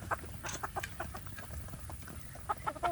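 Free-range village chickens cluck in a run of short, repeated calls at close range over a steady farmyard background, with no talking.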